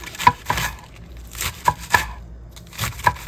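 A knife slices washed lettuce into thin strips on a cutting board, giving several crisp, distinct chopping strokes at an uneven pace, close and fairly loud, with no talking.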